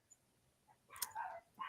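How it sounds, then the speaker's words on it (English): A dog barks a couple of quick, faint yips in the distance, short and sharp against a quiet room. "That's why RJ's dog is getting mad."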